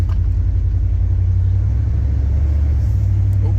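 Inside a 1989 Chevrolet Silverado OBS pickup as it drives, a steady loud engine rumble drones throughout with no clear break for the gear shifts.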